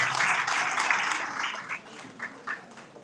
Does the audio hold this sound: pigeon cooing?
no